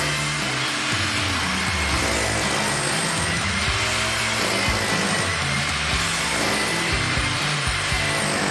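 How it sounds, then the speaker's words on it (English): A power drill grinds steadily and loudly into concrete, its motor droning with rough, gritty scraping throughout, no voices present. "while I'm drilling a hole there, you saw me pulling the thing up and down"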